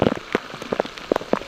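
Rain falls at the Big Lagoon underground river, with dense close patters and drops striking surfaces in an irregular rhythm, and no talking.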